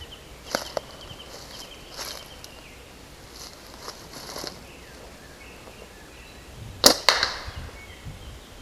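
Outdoors in the woods, a bushcraft slingshot snaps off a shot with a sharp crack, and a sharper smack follows seconds later against quiet ambience with faint insects and rustling.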